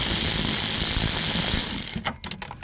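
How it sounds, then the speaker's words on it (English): A 3/8-inch ratchet tightening thermostat housing bolts on a 2003-2007 Honda Accord 2.4L, heard as a few sharp, close clicks near the end after a steady wash of background noise. "Now when I'm tightening them up, I'm just using my regular 3/8" ratchet."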